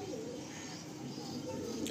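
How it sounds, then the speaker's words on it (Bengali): A pair of hand-mated Fulshia domestic pigeons coo softly and continuously, close by but faint, in a brief, quiet indoor recording. "এই একটা ফুলশিয়া পেয়ার রয়েছে ঘরের পায়রা"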